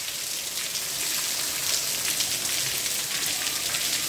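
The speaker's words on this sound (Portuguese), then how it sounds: "Desde as 8h50 da manhã que chove." Heavy rain pours down steadily in Quixadá, Ceará, a dense, even hiss of drops on surfaces that stays constant throughout with no voices.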